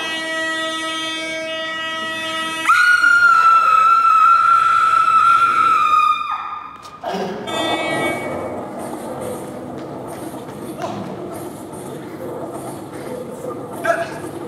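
A train sound effect plays during a theater stage play: a loud, sustained horn-like whistle tone for several seconds, followed by rumbling, rattling rail noise of a passing train.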